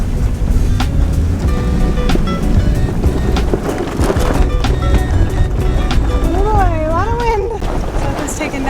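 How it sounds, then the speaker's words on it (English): Strong wind and waves roar steadily around an engineless sailboat with spinnaker and mizzen set, just out of harbor, as a dense, continuous rush with voices talking over it. "the wind really picked out once we left the harbor"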